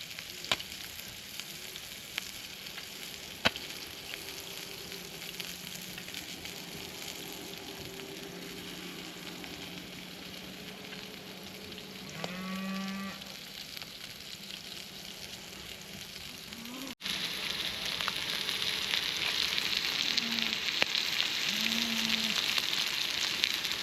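A salmon fillet fries skin side down in a pan on a camp stove at a teepee campsite, a steady close sizzle that runs on alone, with a brief squeak midway and a louder, hissier stretch toward the end.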